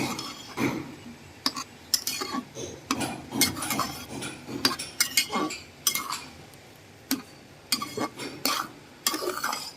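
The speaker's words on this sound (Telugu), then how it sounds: "ఒక్కసారి ఈ రవ్వను ఒకసారి కలుపుకుందామండి." A spoon stirs rice semolina for uppudu pindi in a pot, scraping and clinking against the metal in an irregular series of sharp strokes, close and fairly loud.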